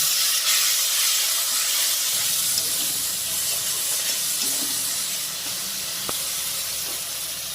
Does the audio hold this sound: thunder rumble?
no